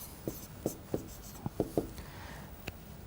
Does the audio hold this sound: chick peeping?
no